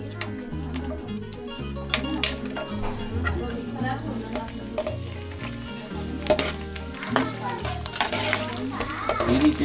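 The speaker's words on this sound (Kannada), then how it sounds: "ಎಣ್ಣೆ ಚೆನ್ನಾಗಿ ಬಿಸಿ ಇದ್ದಾಗ ನಾಲ್ಕು ಹಾಕ್ಕೊಂಡು ನಿಧಾನಕ್ಕೆ ಗೋಳಿಸ್ಕೊಬೇಕು" Pani puri puris fry in hot oil, four at a time, gently turned; a continuous bubbling sizzle with crackles runs under steady background music.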